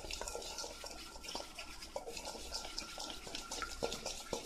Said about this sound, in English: And now we're gonna stir everything up.